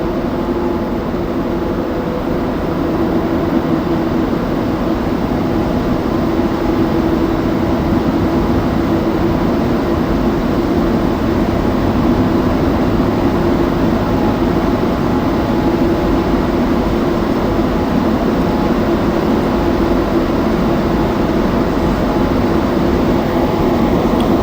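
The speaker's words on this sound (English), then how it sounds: "See where I end up taking this train to." A steady interior rumble of a moving Montreal Metro AZUR train on the Orange Line at midnight, with continuous rolling noise and a faint hum, no voices, holding level throughout.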